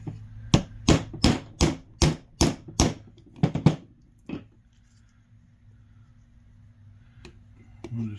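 Bushing being driven onto the Jupiter gear of an Open Antikythera mechanism kit: a quick run of about eight sharp, evenly spaced taps, then a few more scattered knocks, close and fairly loud, with a low hum beneath.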